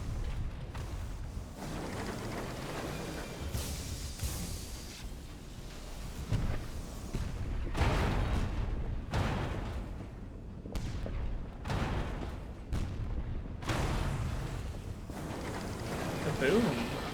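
Ship guns fire repeatedly in Sunless Skies, a series of heavy booming blasts spaced a second or two apart over a rumbling backdrop, with talk mixed in.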